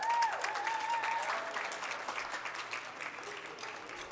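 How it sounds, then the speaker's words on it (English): Audience at a multicultural festival gives a round of applause after a stage performance, steady moderately distant clapping with a brief whistle at the start. "Everyone give them an extra round of applause."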